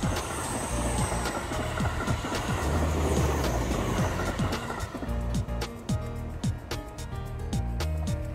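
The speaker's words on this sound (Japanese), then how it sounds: "あ、スマイルトレイン来ました。" A Seibu Railway Smile Train pulls into Kotesashi station with a loud broadband rumble and rhythmic wheel clatter over rail joints, growing more distinct as it arrives close by.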